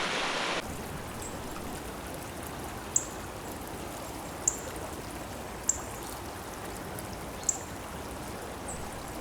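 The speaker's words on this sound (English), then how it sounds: "The camera is now just showing a view from the bridge down at the stream. Some little waterfall rapids." Steady rushing of a stream with little white-water rapids in a wooded glen, heard from a bridge above, a constant even wash with a few soft drips and ticks.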